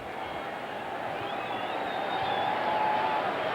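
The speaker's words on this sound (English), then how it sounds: "you'll hear the crowd react to this" A football stadium crowd reacts to a play in a 1996 NFC Divisional Playoff game between the San Francisco 49ers and Green Bay Packers, a broad roar swelling gradually and staying loud throughout.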